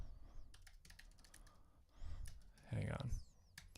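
Bursts of rapid clicking keystrokes on a computer keyboard come in short clusters, close and moderately loud, with a louder thump of keys toward the end.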